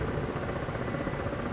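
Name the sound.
helicopter flying in the video game DCS: World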